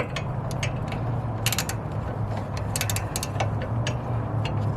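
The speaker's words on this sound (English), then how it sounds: "you could do it with the wrench right here" Ratchet wrench turning a bolt while installing front air suspension on a Dodge Charger, a steady run of close, crisp clicks in bursts over a low background hum.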